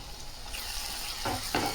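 Eggs and dried fish curry sizzling as they fry in a pan, a steady close crackle with stirring scrapes swelling near the end, no voices.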